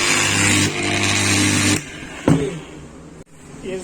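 A GL-190S angle grinder with a suspected faulty armature runs in jerks: a loud whirring motor surges, cuts out abruptly, then kicks back in with short bursts.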